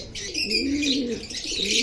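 A brown male Sirajee pigeon coos in a steady series of soft, throaty calls, close and clear, with faint chirping behind.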